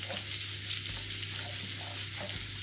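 Haggis fries in oil with garlic, salt and pepper in a pan, giving a steady, fairly soft sizzle with a few gentle stirring scrapes and no voices.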